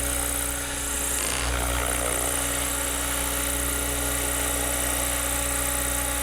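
Steady mechanical whine of a Flywing H1 radio-controlled helicopter in flight, a constant droning motor-and-rotor hum at fairly close range with no talking over it.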